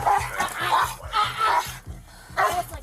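A police guard dog barks in repeated bursts during an arrest, loud and close, with a brief pause before the barking resumes.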